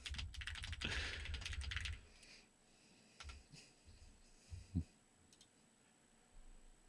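A computer keyboard clatters in a dense burst of typing for about two seconds, followed by a few isolated key taps and clicks in a quiet room.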